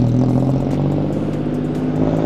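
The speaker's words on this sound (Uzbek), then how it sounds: "Mashina emas, mototsiklcha." Small toy-like motorcycle engine revving up close on a street in Bangkok, a loud, buzzy, steady drone with slight rises and dips in pitch, running alone without voices.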